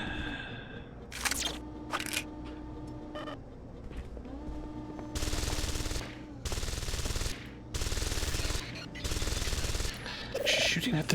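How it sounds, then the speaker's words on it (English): Automatic gunfire in the video game Deus Ex: Invisible War, aimed at a ceiling turret: long, dense bursts of rapid shots come in repeated stretches, with electronic beeps and tones from the game mixed in. "She's shooting at the ceiling turret."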